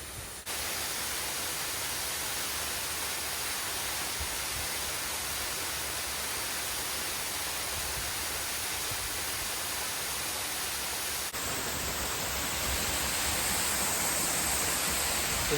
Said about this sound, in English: And now the reason to come here. This amazing waterfall.